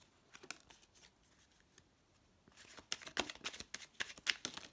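Tarot cards are shuffled by hand in a quick run of soft, papery riffles and clicks that grow busier and louder toward the end, with no talking.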